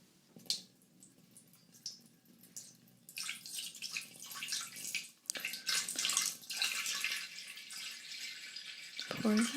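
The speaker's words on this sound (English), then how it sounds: "go ahead and fill it up with some water" Water is poured from small plastic containers into a stock pot for a simmer pot, recorded close up in binaural ASMR style, with gentle splashing and trickling that builds into a steadier pour toward the end.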